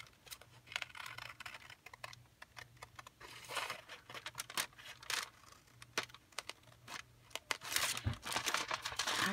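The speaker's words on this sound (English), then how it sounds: "So I'm just going to cut it right along that crease." Scissors cutting along the crease of a paper window envelope, a close run of small snips and crisp paper crinkles in an uneven patter, faint and without talk.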